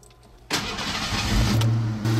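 A 1988-94 Ford Ranger V6 cranks and catches at about half a second, then settles into a loud, steady idle close by, with a brief surge near the end.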